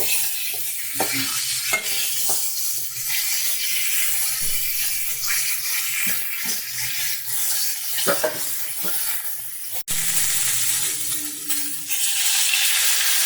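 Potatoes and cauliflower pieces frying in a pan, with a continuous close sizzle and intermittent spatula scrapes and taps as they are stirred, plus a sharp knock near the ten-second mark.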